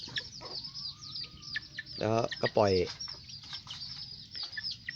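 Chickens and chicks cluck and chirp close by, with a loud squawking burst in the middle, while someone speaks briefly.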